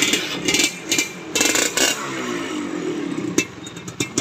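A Suzuki Satria two-stroke motorcycle engine runs close by, its idle broken by short uneven blips and bursts with scraping and rattling between them.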